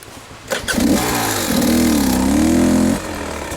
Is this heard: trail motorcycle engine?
yes